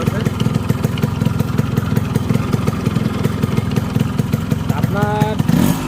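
A Yamaha RX 100 motorcycle in fresh condition runs steadily at idle nearby, its rapid, even two-stroke pulse loud and continuous, with a short voice-like sound near the end.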